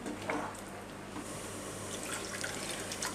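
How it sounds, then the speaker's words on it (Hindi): Half a glass of water is poured into a pan of cooking tinda, giving a steady splashing pour with a few brighter splashes, moderately close and without speech. "मैं इसमें 1/2 गिलास पानी और डाल रही हूँ।"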